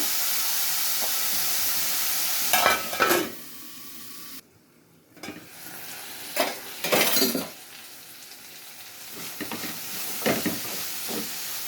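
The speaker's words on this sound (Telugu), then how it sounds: "చిక్కుడుకాయ ముక్కలు ఉల్లిపాయలు కూడా నూనెలో మగ్గిపోతాయి ఫ్రెండ్స్" Broad bean pieces and sliced onions frying in oil in a pan, a steady hiss of sizzling throughout with a few louder clinks and scrapes of a utensil against the cookware.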